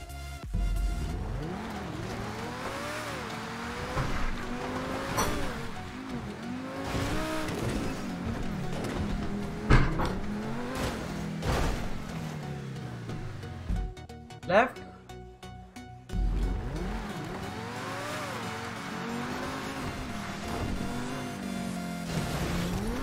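Engines revving and shifting through gears as cars race in GTA 5 Online, with rising and falling whines, tire squeals and brief impacts, while players talk over the game sound throughout.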